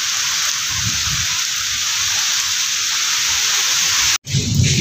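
Heavy downpour during a torrential rainstorm, a steady dense hiss of rain that runs continuously, broken by a brief sharp cutout near the end before resuming.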